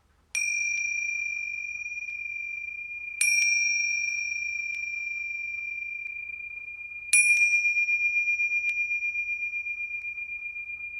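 Meditation bells are struck three times several seconds apart, each a bright, clear ding that rings on in a long, slowly fading tone, the last strike with a gentle pulsing shimmer, heard alone in quiet.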